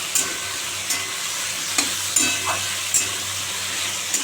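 Ridge gourd and potato curry with turmeric fries in a pan, with a soft continuous sizzle and a few brief scraping stirs of a spoon, close and alone.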